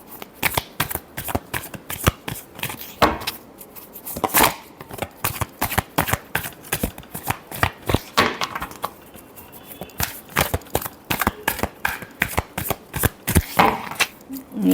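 Tarot cards are shuffled by hand in quick, crisp riffling bursts. The rhythm repeats steadily and stays close and clear throughout, with no talking.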